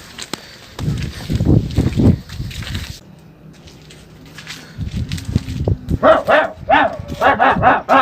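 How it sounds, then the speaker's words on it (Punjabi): A dog barks loudly nearby in a few sharp bursts, mixed with people talking and other close sounds, with a quieter stretch in the middle. "ਕੁੱਤਾ ਜੋ ਭੌਂਕਦਾ ਪਿਆ ਹੈ"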